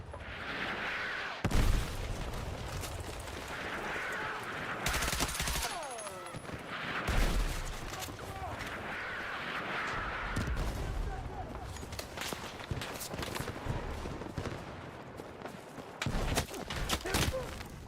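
Mortar and gunfire in the video game Battlefield 6: repeated heavy booms and crackling shots with several loud impacts, set against a steady din of battle and occasional speech.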